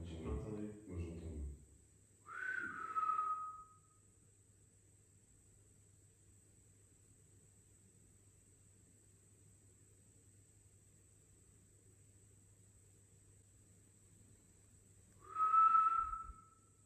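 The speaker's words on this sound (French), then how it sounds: "T'as entendu siffler?" Whistling during a paranormal investigation: two short, faint, high whistled tones about thirteen seconds apart, with a brief murmur of voices at the start and a low steady hum and hiss between them.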